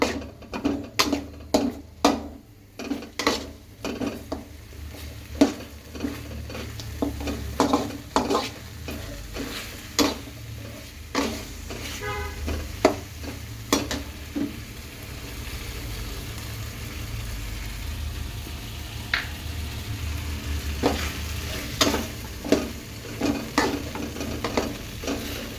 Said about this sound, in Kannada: ಚೆನ್ನಾಗಿ ಬಾಯ್ಲ್ ಆಗೋಕ್ಕೆ ಬಿಡಿ ಅದನ್ನ